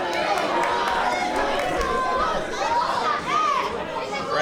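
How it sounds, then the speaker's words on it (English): A wrestling crowd at a P.E.W. event chants loudly and steadily in support of vegan wrestler Prescott, a dense sustained roar of many voices filling the arena with rising and falling waves. "Crowd chanting for veganism."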